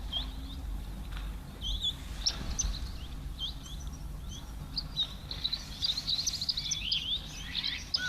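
Chirps and tweets from a colourful African bird at a waterhole, a scatter of bright, quick calls, moderately close, over a steady low outdoor hum with no talking.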